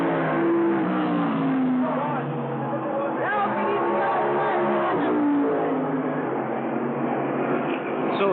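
Winston West stock cars racing in the Motorcraft 500 at Evergreen Speedway in Monroe, 1991, a continuous loud engine roar with passing pitch sweeps under steady commentator talk.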